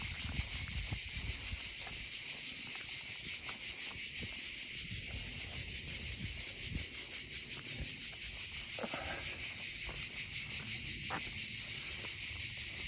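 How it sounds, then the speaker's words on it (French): Cicadas singing in sunny countryside near Saint-Guilhem, a dense, steady high buzzing that fills the whole stretch without a break, with faint rustling and footsteps underneath. "avec le chant des cigales."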